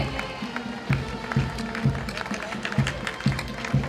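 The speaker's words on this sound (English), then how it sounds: "A big round of applause." An inauguration ceremony crowd applauds a college contingent during the march past, continuous clapping over a rhythmic series of low thumps, likely marching drumbeats.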